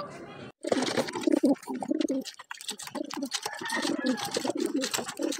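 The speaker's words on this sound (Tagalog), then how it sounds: "Kalapati nga ni." Pigeons coo in close, repeated throaty bursts, with rustling and a voice speaking among the calls.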